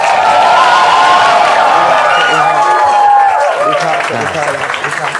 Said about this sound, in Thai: เดี๋ยวขอเสียงปรบมือดังนะครับให้กับน้องปีเตอร์ด้วยนะครับ